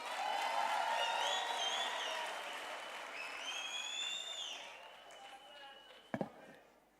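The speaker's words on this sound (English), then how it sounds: "Another round of applause." A crowd applauds at the official opening of the 2022 National Arts Festival, sustained clapping that gradually fades, with whistles and a few sharp claps near the end.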